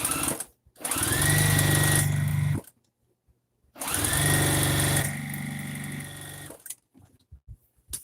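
A sewing machine stitching denim quilt pieces runs in two long bursts of steady whirring, each spinning up and stopping, separated by a short pause and followed by faint clicks and handling sounds.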